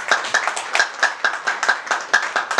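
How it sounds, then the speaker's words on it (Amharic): A few people clap in a quick, even rhythm at a car award ceremony, the sharp hand claps close and distinct rather than a full crowd's roar, with no voices over them. "ጭብጨባ ያንሳል።"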